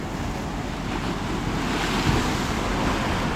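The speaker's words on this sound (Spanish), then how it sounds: "Miren cómo pega el agua acá." Ocean surf crashing against the shore near San José del Cabo in Baja California Sur, a steady, loud wash of churning water with slow swells building and receding, mixed with light wind, no voices.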